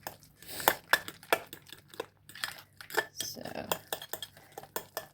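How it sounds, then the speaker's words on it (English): Choux pastry dough being beaten with a fresh egg in a bowl gives irregular clatters and scrapes of a utensil, with wet slapping and knocking strokes at an uneven rhythm, close and fairly loud. "just stirring like this, incorporating the new egg as well. So just keep beating it, beat, stir."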